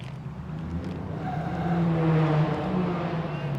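An old Valiant car's engine rumbles and grows louder, a low throaty drone that rises toward the middle as it nears, heard outdoors on a street in South Perth with traffic hum around it.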